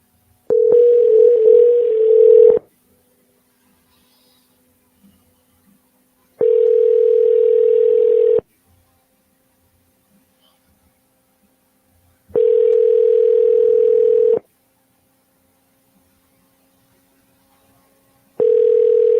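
An outgoing telephone call rings back in four evenly spaced tones, each a steady electronic purr about two seconds long, separated by roughly four seconds of near silence.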